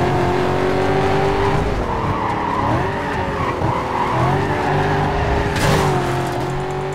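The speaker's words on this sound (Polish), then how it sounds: "Wow, jaki drift, widzieliście?" A car drifts in the video game Need for Speed Carbon, its tires squealing over a loud, continuous engine roar that wavers in pitch throughout.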